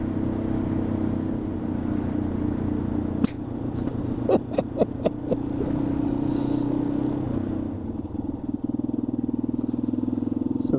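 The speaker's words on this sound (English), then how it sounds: "So the bike's not enjoying this altitude, it keeps backfiring." Motorcycle engine at high altitude in the Moroccan mountains, idling and rumbling steadily while a series of sharp pops and cracks break out in an irregular cluster, close by and loud.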